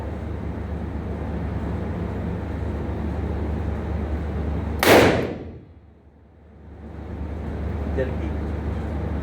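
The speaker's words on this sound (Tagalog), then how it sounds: "So, ready? Firing!" A single sharp revolver gunshot cracks loudly at a target range, then fades and is followed by a brief dip into near-quiet before steady outdoor background noise returns.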